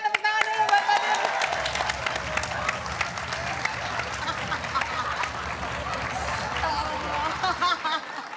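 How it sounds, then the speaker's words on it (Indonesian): Studio audience applause on a talk show: continuous, lively clapping from a crowd, with cheering and voices talking over it throughout. "Nah ini Pak Tirta, tepuk tangan dulu buat Pak Tirta."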